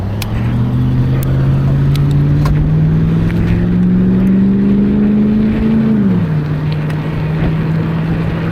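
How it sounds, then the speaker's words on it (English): Car engines on a road behind someone riding to work along a creek trail give a loud, continuous droning hum that slowly climbs in pitch, then drops and levels off as traffic moves past. "Got a bunch of cars behind me."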